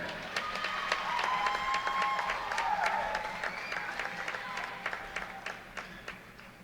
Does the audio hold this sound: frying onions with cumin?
no